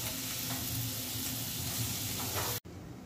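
Bitter gourd bhaji sizzles and fries steadily in a covered pan, giving a loud, even crackling hiss close by that cuts out abruptly near the end before a quieter tail.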